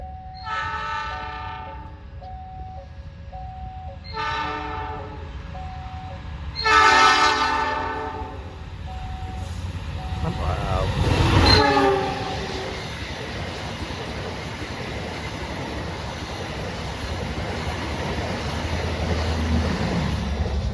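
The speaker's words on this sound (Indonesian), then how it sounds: "Kereta api Lodaya yang reguler ya teman-teman, melintas langsung stasiun Gede Bage" Regular Lodaya passenger train running straight through Gedebage station, sounding several loud stepped horn blasts as it nears, followed by a rising roar of wheels and cars rushing past close by, then a steady fading rumble.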